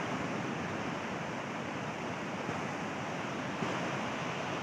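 A river in Neelam valley, Kashmir rushes past in a dense, steady roar of flowing water, loud and unbroken throughout with no voices.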